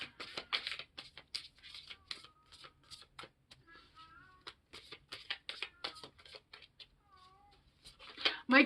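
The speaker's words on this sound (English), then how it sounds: "My cat's mad. He wants in." A cat wanting to come in meows twice, with soft rustling and scratching close by before and between the meows.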